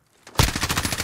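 A quick burst of rapid gunshots in a video game begins abruptly after a soft lead-in and repeats in an even, fast rhythm, loud and close.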